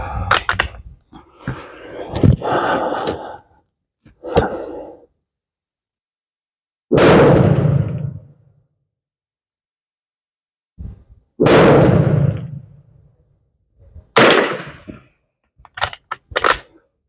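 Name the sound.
gunshots from a .22 caliber WZ48 Polish training rifle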